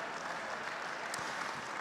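Steady crowd applause from a charity gala audience, dense continuous clapping heard at a distance and fairly quiet, without pauses through the whole moment.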